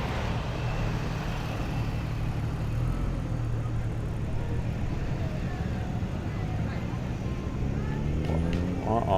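Cars drive around a homecoming parade on Main Street, a steady muffled rumble of passing traffic that goes on throughout, with voices talking in the background.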